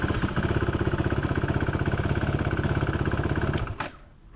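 A KTM motorcycle engine running after a self-start, a close, steady rapid thumping idle that holds evenly before cutting off abruptly near the end.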